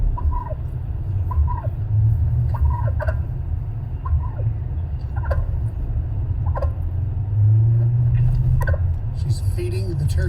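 A turkey being hand-fed bird seed gives short gobbling calls over a steady low rumble, with people talking nearby.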